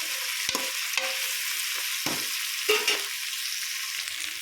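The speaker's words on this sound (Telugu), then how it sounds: "ఇదిగోండి పచ్చి జీడిపప్పు, మిల్ మేకర్ వేసేసాను. కొంచెం వేగనిద్దాం." Raw cashews and meal maker frying in a pan for a jackfruit biryani make a continuous soft hiss with a few brief stirring knocks and scrapes, close and fairly quiet, with no voices.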